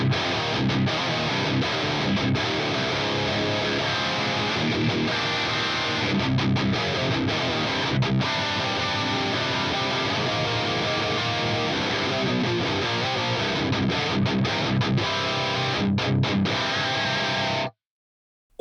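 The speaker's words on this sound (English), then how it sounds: "We've got a great high gain distortion sound now." Electric guitar played through a Triaxis amp model with a high-gain distortion tone, a dense, saturated and sustained sound ringing continuously for about eighteen seconds before stopping abruptly, with no voices over it.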